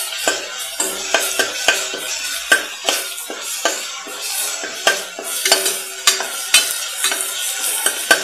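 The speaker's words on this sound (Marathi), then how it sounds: "याचा उग्रपणा साधारण जाईपर्यंत आपण हे जे मसाला आहे हा परतून घेणार आहोत." Spice masala for a potato gravy stir-fried in a pan, giving a steady sizzle broken by repeated sharp scrapes of a spatula against the metal in an irregular rhythm, close and fairly loud with no talking.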